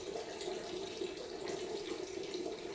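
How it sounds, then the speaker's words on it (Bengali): Tap water runs steadily from a bathroom faucet into a sink while someone washes their face, a continuous close splashing rush with no voices. "সেভাবেই একটু নর্মাল মুখটাকে করে ওয়াশ করে চলে যাবো"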